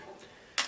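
A single sharp metronome click lands near the end after a quiet stretch, crisp and close, used to keep time for a banjo roll.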